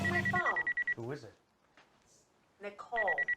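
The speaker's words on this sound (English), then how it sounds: "Hey, that's my phone." A mobile phone rings in bursts of an electronic ringtone at the start and again near the end, with a voice speaking briefly in between.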